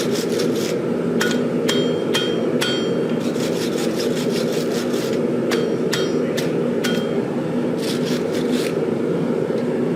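Steel blade core being forge welded under a hammer: a run of sharp, ringing strikes, some in quick pairs and others spaced apart, close and loud over a steady roaring forge background.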